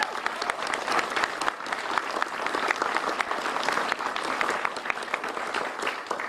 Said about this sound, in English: would you all give my team a round of applause?